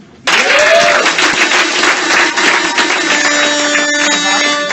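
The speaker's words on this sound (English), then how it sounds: "If it's your first time at the RoastMasters, clap your hands." At a RoastMasters comedy roast battle show, the audience breaks into loud, sustained clapping that starts abruptly. A whistle or shout carries over it early on, and a steady hum runs underneath.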